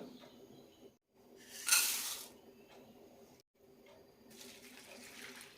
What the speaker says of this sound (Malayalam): ഏതുതരം അവിൽ വേണമെങ്കിലും എടുക്കാം നന്നായി കഴുകി ഇതൊന്ന് കുതിർത്തിയെടുക്കാം